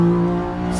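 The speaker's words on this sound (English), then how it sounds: "6422 coming off the start in his X3 Can-Am" A Can-Am X3 off-road race vehicle accelerates off the start line in desert qualifying, a loud, steady engine drone held close for under a second.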